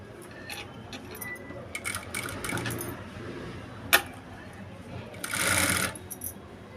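A sewing machine stitches along piping in short bursts, faint and close, with clicks, fabric handling and a louder whirring run near the end; someone talks quietly at times.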